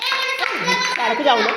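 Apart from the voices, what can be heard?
children clapping hands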